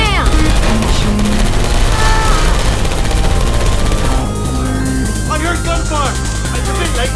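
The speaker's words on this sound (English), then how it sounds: "I heard gunfire!" Loud, dense bursts of rapid gunfire in Portal 2 rattle continuously, mixed with tonal game sounds in the background.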